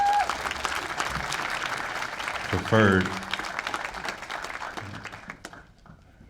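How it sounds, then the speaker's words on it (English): An audience applauds in a sustained burst of clapping while a voice speaks over it, and the clapping tapers off toward the end. "Everybody give a round of applause for"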